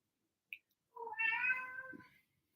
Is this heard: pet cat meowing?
yes